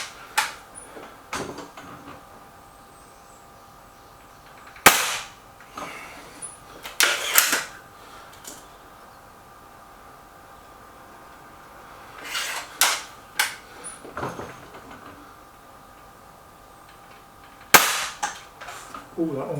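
A Hatsan 900x Breaker air rifle fires at a target, giving sharp, loud cracks spaced several seconds apart, with quieter mechanical clicks and handling noises between shots.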